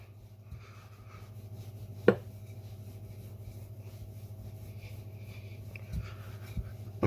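Short pastry dough for a quiche Lorraine being rolled out on a floured surface, a low steady rolling rumble with a few sharp knocks and taps of the rolling pin, close and without talk.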